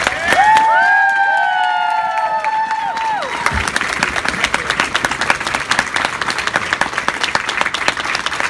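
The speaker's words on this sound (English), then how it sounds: "So can we get a huge round of applause for all the dancers, please?" A dance competition crowd bursts into applause and cheering for the dancers, entering after a few seconds of fading music and then sustained loud clapping with scattered shouts and whoops.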